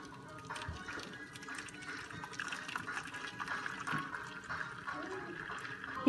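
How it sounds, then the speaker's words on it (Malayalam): Heated water is poured into a baking pan for caramel pudding, a soft continuous trickle and splash, quiet and close, with faint voice traces. "അപ്പം ഞാൻ ഇത്തിരി വെള്ളം നേരത്തെ തന്നെ ചൂടാക്കി വെച്ചിട്ടുണ്ട്,"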